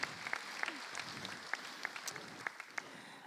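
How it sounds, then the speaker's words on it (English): Scattered, fairly faint clapping from a small audience at a high school class night, with a few sharper individual claps standing out from a soft background murmur. "you can clap, it's cool"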